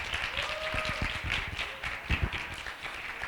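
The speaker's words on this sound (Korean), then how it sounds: "김서아 학생에게 다시 한번 큰 박수 부탁드립니다" Applause from an audience at a Korean youth climate forum, honoring high school student Kim Seo-a after her speech; broad crowd clapping fills the clip steadily at moderate volume.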